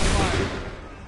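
A musket volley fired by a line of soldiers in Assassin's Creed 3: one loud, broad crack at the start that rolls off into a long fading rumble, with no talk over it.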